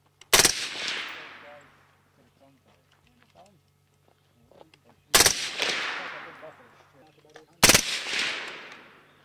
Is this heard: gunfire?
yes